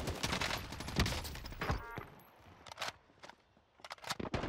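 Gunfire from a firefight in the Warzone video game rings out in quick bursts and single cracks, fairly faint and distant, with rapid clusters of shots separated by short pauses.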